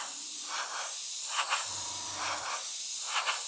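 Airbrush sprays undiluted semi-matte clear coat onto a scale model in short pulsing bursts, a soft, close, steady hiss that swells and fades with each pass, with a faint low clunk midway and no talking.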